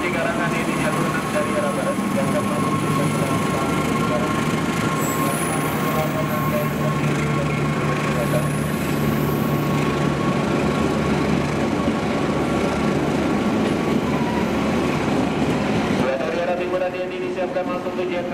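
The Argo Muria passenger train, carrying ten executive coaches, passes close by, a loud continuous roar of wheels and rail clatter with a steady tone, dropping abruptly near the end.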